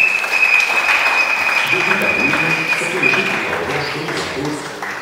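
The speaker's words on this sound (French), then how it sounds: "On acclame encore le Seigneur." A church congregation applauds in praise of the Lord, a loud, sustained wash of clapping from many hands that fades slightly toward the end.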